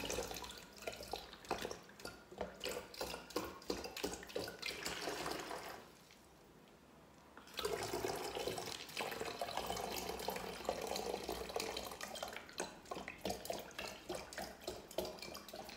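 Demineralized water pours steadily into a bottle with a close, bubbling, gurgling rush, pausing briefly midway before the flow resumes at the same level.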